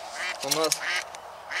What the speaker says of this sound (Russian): слышно крякает на кустах